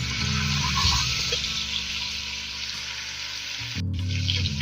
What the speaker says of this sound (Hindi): इनको हल्का सा फ्राई करेंगे, बहुत ज़्यादा नहीं भूनेंगे